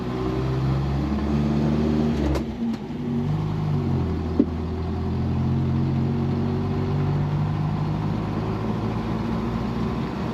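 A 1960 Nash Metropolitan's small carbureted engine catches after a pull-starter crank, then idles with a steady low, slightly uneven hum that holds throughout, close and moderately loud, with no talking.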